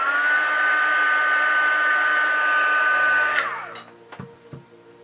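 A heat tool blows hot air to set paint on a vinyl doll face, a loud steady high whine lasting about three seconds before it winds down and stops, followed by a few soft knocks.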